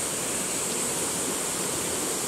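River water rushing steadily, a dense, even wash of flowing water close by and unbroken for a couple of seconds, with no voices.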